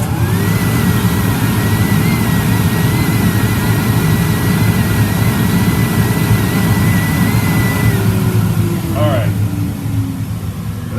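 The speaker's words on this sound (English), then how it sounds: "This is just with the Harbor Freight dust collector" A Harbor Freight dust collector on a 24-inch Laguna bandsaw gives a steady, loud motor roar with a constant low hum and whine, running continuously without pause; a faint rising tone appears near the end.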